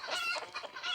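Chickens clucking in short, agitated bursts as they are being caught, fairly faint and close.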